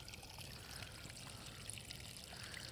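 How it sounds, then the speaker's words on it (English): Water pours and trickles steadily over a newly built garden waterfall on a crawl course, a constant close splashing wash with no voices. "And then we got more water flowing over here"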